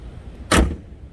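A single solid thump as a car hood is shut, brief and fairly close, over a faint low background rumble.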